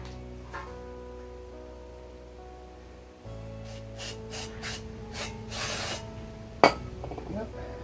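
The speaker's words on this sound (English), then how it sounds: "Maybe I'll blast a little cleaner in there." Spray cleaner hisses in short bursts into the pull cord housing of a lawn mower, several quick blasts fairly close, followed by a sharp clink against a low steady background hum.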